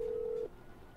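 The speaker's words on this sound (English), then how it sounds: "Let's call her as Edgar Coldstream" A single steady telephone keypad tone from the phone in the video game The Red Strings Club, sounding clearly for about half a second and then cutting off into quiet background hum.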